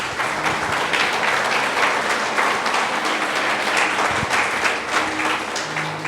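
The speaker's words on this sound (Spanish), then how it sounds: "Dale un fuerte aplauso a Dios por eso." Congregation in a Spanish-language church service breaking into loud, sustained applause, a dense steady wash of many hands clapping throughout with a faint voice underneath.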